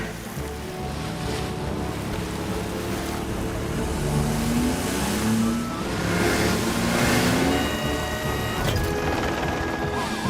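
A car in a cartoon drives toward the beach. A continuous engine drone runs under surf-like wash and wind, and short rising tonal whines come through in the middle. No voices.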